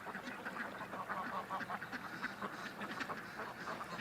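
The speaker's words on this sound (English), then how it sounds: "it looks like I'm herding the ducks home tonight here" Several ducks quack near a waterside at dusk, a steady overlapping chatter of calls from a small flock just out of the water, moderately close and continuous.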